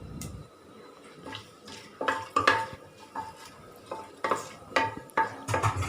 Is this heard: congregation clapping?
no